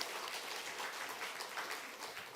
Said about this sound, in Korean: 우리 다시 한번 루디아 여전도회와 찬양을 받으신 하나님께 영광의 박수 올려드리겠습니다